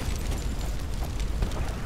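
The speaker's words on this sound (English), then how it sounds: "Are you done exploding?" Explosion in the video game Sniper Elite 4, a dense low rumbling boom with rolling debris-like texture that stays loud and sustained throughout, no talking over it.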